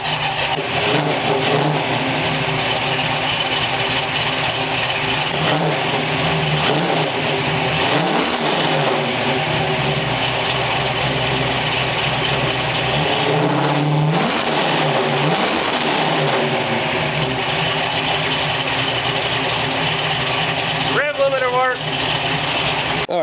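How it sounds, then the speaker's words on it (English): A 1964 Chevrolet C10 truck engine with a newly installed ignition idles roughly, then revs up and settles back several times, loud and close, with a voice speaking over it. "the engine's running a little bit rough right now"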